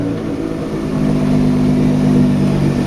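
Nissan GT-R engine accelerating during a test drive, a steady rising mid-pitched drone heard from inside the car, building in loudness with no talk.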